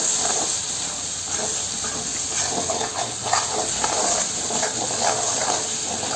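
Masala fries in oil for a country chicken curry, giving a steady, close sizzling hiss throughout with faint crackles, no talk.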